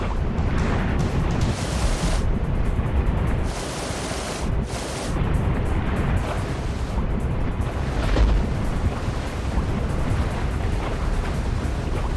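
A raft plunging into river rapids in the Amazon: a loud, continuous roar of churning, rushing water fills the whole stretch with no voices.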